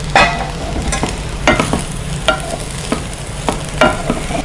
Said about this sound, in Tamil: இதே நல்லா மிக்ஸ் பண்ணிகிட்டே வாங்க